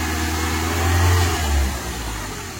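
A BMW E36 engine running and revving, a low steady engine rumble that swells briefly in the middle before settling back, close and alone.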